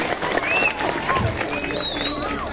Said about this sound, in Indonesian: coba orang tepuk tangan